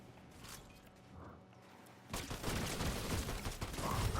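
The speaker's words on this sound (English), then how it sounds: "Oh, and he's shooting someone else." Gunfire in Fortnite, quiet at first and then a dense, continuous rattle of shots for the last half, fairly faint and with no talking.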